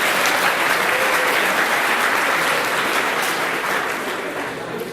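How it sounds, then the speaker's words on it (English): A large audience at an award ceremony applauds in a dense, steady wash of clapping that fills the whole stretch, loud and close, tapering slightly toward the end. "I had one more round of applause"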